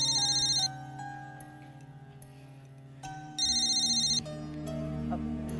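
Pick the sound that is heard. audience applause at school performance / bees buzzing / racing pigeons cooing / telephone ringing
telephone ringing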